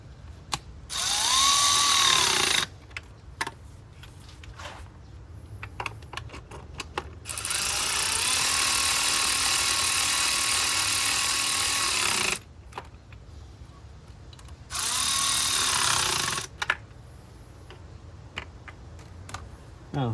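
Ratchet working on a bolt on a 2006 BMW 325i, with three long bursts of rapid clicking separated by quieter gaps of handling and small clanks, close and fairly loud.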